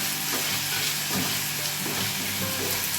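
Eggplant curry masala with onions frying in a pan for Badanekayi Ennegayi, a steady close sizzle with scraping stirs of the spoon running throughout, no voices.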